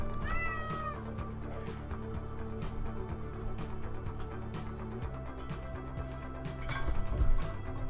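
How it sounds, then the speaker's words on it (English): A pet cat gives one brief, wavering meow near the start, fairly close but modest in level, over continuous train-simulation game music and effects, followed by a faint clink later. "He's shouting at me, that's adorable."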